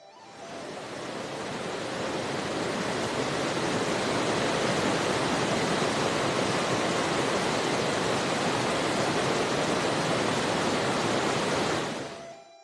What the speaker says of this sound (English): he saw a waterfall which was about 150 feet high, with billows rushing forward